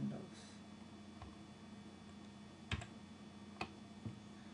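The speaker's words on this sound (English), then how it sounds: "First, I type command F or control F" The Command F shortcut is typed on a computer keyboard: a few faint, isolated key clicks spaced about a second apart over a low steady mains hum, with no talk.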